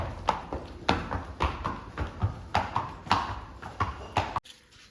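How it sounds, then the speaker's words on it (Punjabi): A mare's hooves clip-clop in a steady, fairly close rhythm, about a dozen clear knocks before the sound cuts off abruptly near the end. "ਘੋੜੀ ਵੀ ਘੁਮਾ ਲਿਆਂਦੀ"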